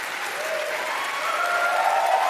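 Debate audience breaks into sustained applause and cheering for the moderator, a dense, even wash of clapping from a large hall crowd with no voices standing out.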